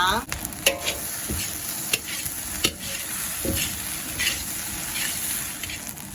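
Egg fried rice with instant stir-fry sauce sizzles in a hot pan as a spatula scrapes and tosses it in repeated strokes, a steady close crackle broken by sharp scraping hits.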